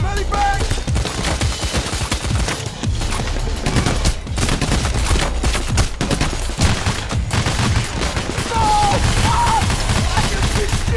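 Sustained gunfire from the Payday: The Heist co-op heist game, dense automatic bursts and shots firing continuously for the whole stretch, loud and busy with faint voices mixed in.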